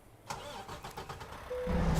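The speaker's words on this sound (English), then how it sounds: "Let's fire up the truck." A truck engine in American Truck Simulator cranks and catches, then settles into a steady, rising idle, close and clear with no talk.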